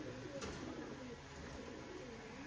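Pigeons coo softly in a loft, low throaty murmurs repeating under a steady background hiss, faint and close, with a brief flutter or click early on and no one speaking.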